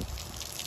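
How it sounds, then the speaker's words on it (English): Warm water hisses steadily from a grooming sprayer while a Samoyed puppy is washed, a close, continuous spray with no talking. "So this sprayer, we have nice warm water here."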